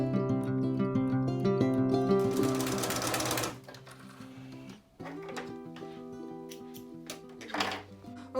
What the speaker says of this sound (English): okay, so I zigzagged the edge of my fabric.